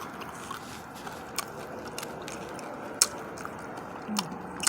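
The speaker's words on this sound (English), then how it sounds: "if you hear me chewing, I'm eating my M&Ms as I teach" M&M candies being chewed close to the mouth: faint, crisp crunches and bites scattered over a quiet room, with no talking.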